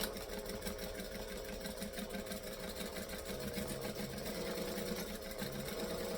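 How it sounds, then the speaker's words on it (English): A sewing machine set to a 2.5 stitch length runs steadily, stitching forward and then back stitching fabric, a quiet, even mechanical whir with a rapid needle rhythm and brief pauses as direction changes. "And I'm just going to stitch. Stitch, back stitch."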